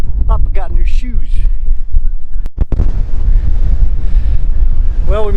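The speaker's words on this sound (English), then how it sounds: "It's really, really windy." Strong wind buffets the microphone in loud gusts while a person talks intermittently on a rock-face hike, with a sharp knock or bump partway through.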